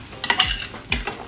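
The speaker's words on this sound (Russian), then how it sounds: "Все так же продолжаем жарить на медленном огне." Chicken breast fillet frying slowly over low heat in a pan with butter, olive oil and teriyaki, giving a soft sizzle with a few scraping stirs and clinks of a utensil, close and without speech.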